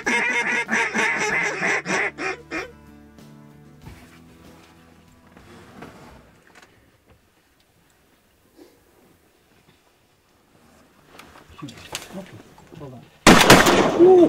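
Geese honk and ducks call loudly and close during a waterfowl hunt, then fade into near-quiet with scattered sounds and some voices, before a sharp, loud shotgun blast cuts in at the end.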